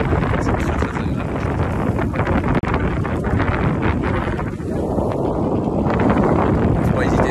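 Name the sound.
cool north wind blowing on microphone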